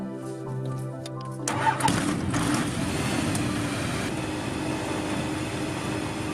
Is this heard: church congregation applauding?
no